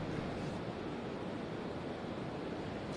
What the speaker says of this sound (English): the surf is very rough